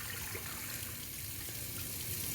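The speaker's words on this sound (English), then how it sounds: "I'm just gonna pour it off one more time just for safe measures." Rinse water being poured off washed rice in a kitchen, a steady close splashing gush of water running continuously without pause and with no talk over it.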